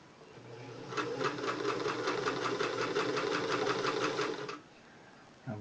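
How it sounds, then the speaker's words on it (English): A Singer 328K sewing machine stitching in one steady run of about four seconds, its rapid even chatter and motor hum close and clear, stopping to a low whir. "So I'm going to sew"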